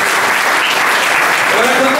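Applause from a live audience at an Italian talk about sport and the Grande Torino football club, a steady close wash of clapping filling the whole stretch without pause.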